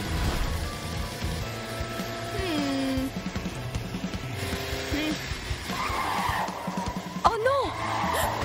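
A cartoon police car skids out of control on a dangerous turn during a race, with tire squeals rising and falling amid engine noise, music and voices over several seconds.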